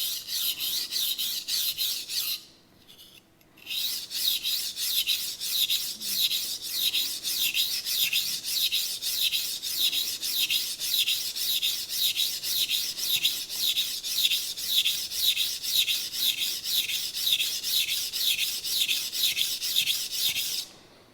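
A knife blade being sharpened on a stone, heard as a steady run of close, rhythmic rasping strokes, with a short pause near the start before the even strokes resume, no talk.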